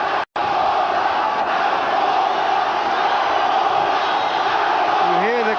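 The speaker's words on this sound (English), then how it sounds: "You hear the crowd chanting for Zaragoza, Zaragoza." A large boxing arena crowd chants a fighter's name in loud, rhythmic massed voices with a steady roar beneath, from a distance throughout.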